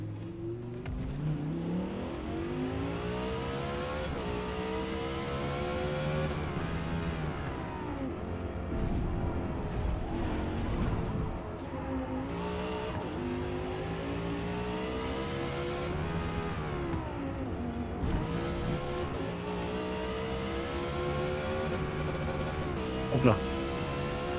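A 2018 Audi R8 LMS GT3 race car in Forza Motorsport, its engine droning loud and steady for the whole stretch with pitch climbing and falling through repeated revs and gear changes.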